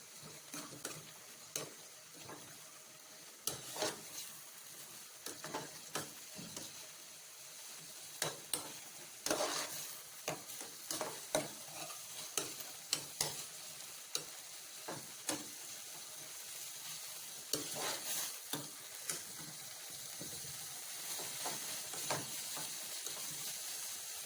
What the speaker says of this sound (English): So we continually turn it as it cooks.